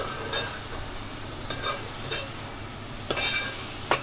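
Ivy gourd curry frying in oil, a constant close sizzle with occasional scraping and clinking strokes of a spoon stirring it in the pan, no voices.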